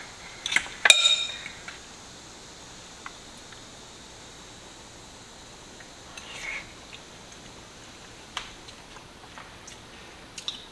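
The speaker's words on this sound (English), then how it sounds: "I'm going to actually get it from the pan in here." Baked stuffed manicotti topped with parsley is served from a pan: a quick cluster of metal-on-dish clinks at the start, then near silence with a few faint scattered taps.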